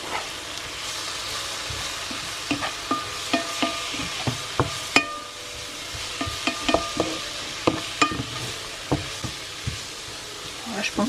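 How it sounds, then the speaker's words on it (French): Leeks being stirred in a pan as they cook, with a steady frying sizzle and repeated scraping knocks of the utensil close by, recurring irregularly throughout. "Je vais remuer un peu les poireaux."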